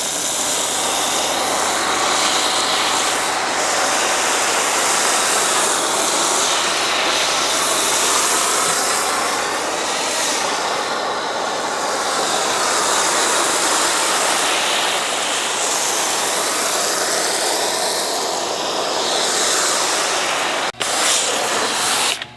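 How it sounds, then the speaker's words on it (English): Krenzla pressure washer running at maximum pressure through a foam cannon, a steady loud broadband hiss of spray that holds constant for about twenty seconds. "we're gonna run it through a Krenzla pressure washer"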